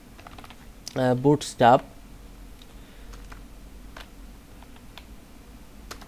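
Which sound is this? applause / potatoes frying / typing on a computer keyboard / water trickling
typing on a computer keyboard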